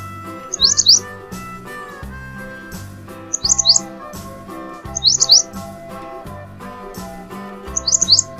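Repeated bursts of bulbul-like chirping come in four short high clusters over a steady musical backing in a Bengali children's alphabet rhyme.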